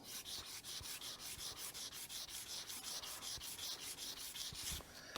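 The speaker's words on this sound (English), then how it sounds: "Seems to be sanding that away." Steady back-and-forth sanding with a sanding sponge on a model starship build, a rhythmic gritty rubbing repeated many times at close range, with no voices.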